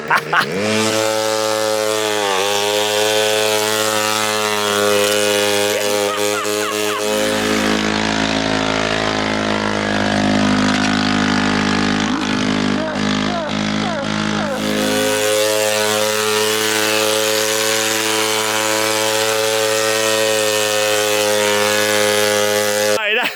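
A turbocharged 50cc engine on a budget drift kart runs hard and close, a loud continuous buzzing whine whose pitch rises and falls steadily over the whole stretch.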